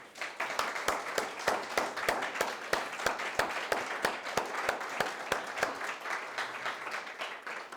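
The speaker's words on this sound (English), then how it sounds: "we should give David a round of applause" An audience applauds warmly, dense clapping that holds steady for several seconds with sharp individual claps standing out above the crowd.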